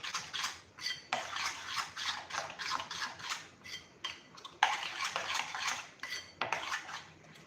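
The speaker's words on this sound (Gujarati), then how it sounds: "મકાઈ નાખ્યા પછી એકદમ સરસ રીતે મિક્સ કરી લેશું." Corn kernels mixed into batter in a bowl with a spoon, producing a fast continuous run of clinking, scraping strokes against the bowl, close and fairly loud with no talking.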